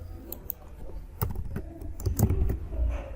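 Someone types code on a computer keyboard at a moderate, uneven pace, soft close keystrokes clicking over a low background hum, with no talking.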